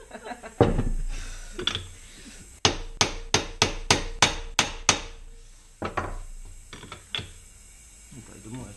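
Sharp metallic hammer strikes ring out while assembling a Stage6 Pro 70cc scooter engine, a steady run of about eight evenly spaced taps, with a few scattered knocks before and after.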